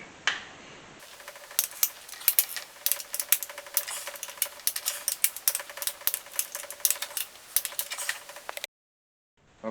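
Torque wrench tightening cylinder head bolts to 37 pound-feet, a rapid run of sharp metallic ratchet clicks close up, dense and uneven, ending abruptly in silence.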